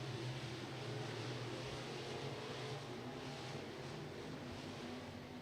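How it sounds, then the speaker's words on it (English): Race cars in a heat race at Beckley Motor Speedway, a steady, faint, distant engine drone holding a constant pitch with no clear passes or revving. "Intense racing for the lead to start this heat race out here."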